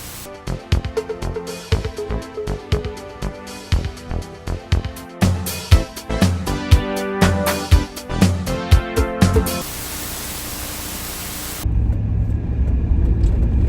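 A car drives at night, its steady road rumble and engine drone taking over after a stretch of beat-driven music, ending in a low, continuous roar.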